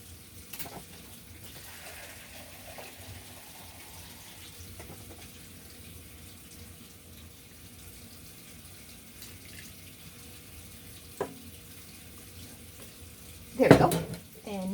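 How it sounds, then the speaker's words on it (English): Water runs quietly and steadily from a tap into a vessel for dyeing fiber, a faint continuous trickle with a small clink near the end, then a louder splash or clatter as it finishes. "I'm just going to add a bit more water."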